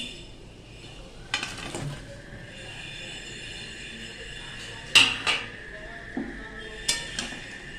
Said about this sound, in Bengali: এবার দিয়ে দেবো মাংস ভাজাগুলো।